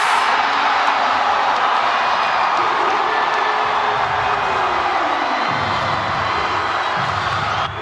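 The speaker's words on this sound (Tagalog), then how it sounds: "makes the crowd even go crazy and loud" Loud, sustained crowd roar at a basketball playoff game in the MPBL between Batangas City and Gensan, a dense wall of cheering and shouting that holds steady throughout with faint voices mixed in.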